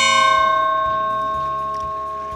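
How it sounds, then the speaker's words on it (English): A steel target plate, hung from a single mounting point and struck by .308 rifle bullets at short range, rings out loudly like a bell, its sustained metallic tone slowly fading away. "The single mounting point also enhances plate harmonics and makes the target ring like a bell when"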